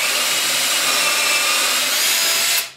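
A power drill with a brad point bit bores a half-inch hole into wood with a steady, hissing grind for a few seconds, then stops abruptly.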